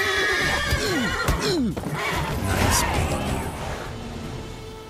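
In The Witcher 3 video game, a horse lets out loud repeated whinnies over quick hoofbeats, a thud and swish cutting in midway before the galloping pace continues and fades slightly.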